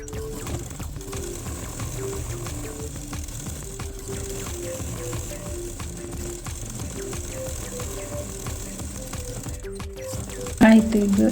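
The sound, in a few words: sewing machine stitching a press stitch on fabric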